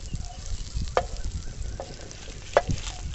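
Butter sizzles in a pan with garlic chicken while cooking outdoors in a village, a steady frying hiss with a few sharp clicks from stirring, close and continuous.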